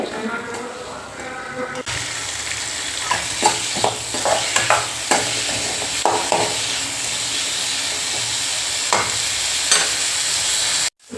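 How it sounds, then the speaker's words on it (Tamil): Chopped tomatoes sautéing with onions in a pan for a kuzhambu, giving a steady close sizzle broken by repeated stirring scrapes and clacks of a spoon. "தக்காளி பழம் வந்து ஒரு மூணு பழம் வந்து சின்ன பழமாக எடுத்து நம்ம நறுக்கி சேர்த்துக்கலாங்க இதையும் நல்லா வந்து வதக்கி விட்டுடலாங்க வெங்காயத்து கூட சேர்த்து"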